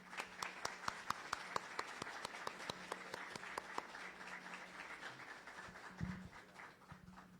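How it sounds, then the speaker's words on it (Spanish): An auditorium audience at a law week event claps to welcome a speaker, sharp distinct claps at first that thin out and fade, quiet and somewhat distant, followed by a brief low voice. "la recibamos con un fuerte aplauso."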